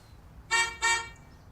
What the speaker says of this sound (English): Oh, that's the car horn.